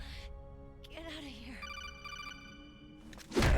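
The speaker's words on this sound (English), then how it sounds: "Now is not the time for a phone call, Snake." A codec call ringing in Metal Gear Solid: The Twin Snakes, a repeating electronic trill that comes in mid-clip over game sound and faint background voices, before a louder burst of noise at the end.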